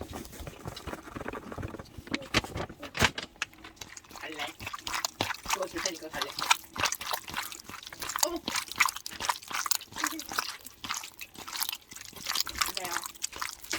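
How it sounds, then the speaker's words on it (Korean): Raw chicken gizzards being rinsed by hand in water, giving a continuous wet pattering, squelching and splashing with quick irregular bursts of handling, close by, with a voice talking at times. "물로 한 번 더 헹궈 주세요"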